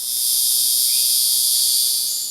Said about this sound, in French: les mâles de la cigale de Guyane produisent un son assourdissant pour attirer les femelles de leur espèce